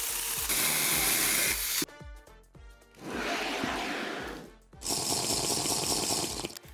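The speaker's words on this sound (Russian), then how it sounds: "Я реально купил электрическую пилу." An electric saw cuts wood in loud, harsh bursts with a buzzing, rattling tone, pausing between passes, close up with no talking.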